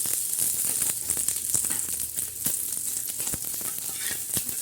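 Grated coconut sizzles and crackles in hot oil in a pan, a continuous close frying hiss with scattered pops and stirring scrapes.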